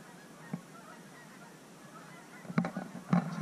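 A flock of geese passes overhead during waterfowl season, giving faint distant honks that build into a few louder calls near the end over a soft outdoor hiss.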